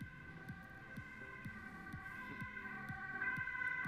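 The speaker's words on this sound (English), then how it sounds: "that's the ambulance passing by" A wailing ambulance siren sweeps past under steady tones, its rising and falling whoops clear against a low hum, growing slightly louder toward the end.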